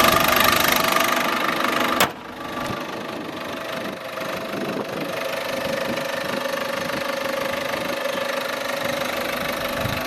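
A 2013 Citroën DS4 with a 1.6 e-HDi diesel engine runs at a steady idle, a constant mid-pitched hum with faint knocking texture, preceded by a sharp click around the two-second mark.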